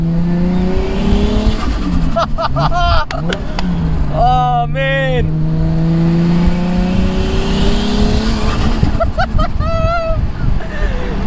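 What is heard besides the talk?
turbocharged Toyota Supra engine revving with blow-off flutter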